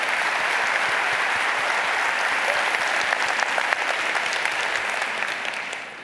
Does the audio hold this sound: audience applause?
yes